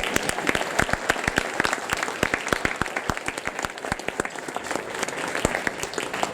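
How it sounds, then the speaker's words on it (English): Applause at a luncheon after a speaker, with distinct close handclaps standing out over a softer spread of clapping from the room, continuing steadily. "Can we give him another round of applause?"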